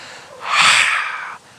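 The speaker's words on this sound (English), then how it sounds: "we're going to exhale making a lion sound" One forceful, breathy yoga lion-breath exhale through an open mouth with tongue out, rising quickly and fading over about a second, close and alone.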